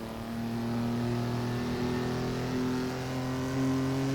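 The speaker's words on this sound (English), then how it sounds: "the straight six is a nice torquey motor, so pull us through that corner nicely" A straight-six racing car engine pulls steadily through a corner in third gear, its sustained tonal drone rising slightly in pitch, with a brief surge of revs near the end.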